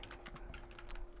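Typing on a computer keyboard while writing Java game code: quick, irregular clicks and taps of keys, fairly close and soft, with no talking.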